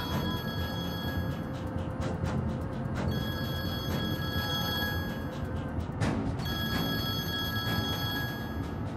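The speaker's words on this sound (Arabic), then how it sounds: "أكيد هذا كينجو عم يتصل، أعطيني التليفون" A telephone bell rings in repeated bursts over a steady background hum at moderate loudness, with no talking.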